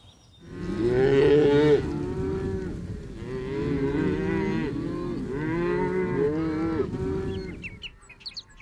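Cattle on a ranch moo loudly and close by, with several long, drawn-out bellows overlapping one after another and a few faint bird chirps near the end.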